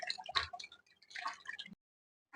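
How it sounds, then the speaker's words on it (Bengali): Juice drips and squishes out of grated raw green mango being wrung hard in a cloth for kasundi, a series of close wet dribbles and squeezes that stop abruptly into silence. "দেখেন কতটা পানি বেরোচ্ছে।"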